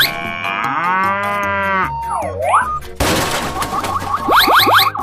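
A cow in a 3D animal video game lets out one long, loud moo, followed by cartoonish boing and swooping effects and a sharp bang with rapid springy chirps.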